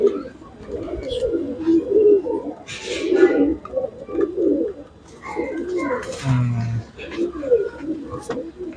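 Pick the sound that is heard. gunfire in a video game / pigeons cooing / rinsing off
pigeons cooing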